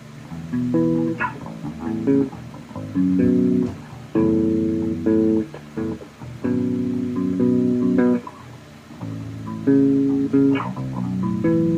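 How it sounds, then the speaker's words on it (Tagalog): A clean electric bass through a dual amp, no effects, plays a groove of short, deep plucked notes and phrases with a slight bright edge, no other instruments or talking. "Yan ang tunog ng normal na bass, na dual amp pa rin"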